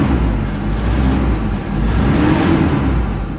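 Engine of a Toyota Fortuner revving steadily with a deep low rumble, loud and close, swelling slightly midway, no talk over it.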